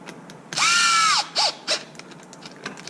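An electric impact gun with a socket bit whirs in a short loud burst and then gives two quick brief pulses while driving screws into plastic on a Traxxas Mojave 6S control arm repair.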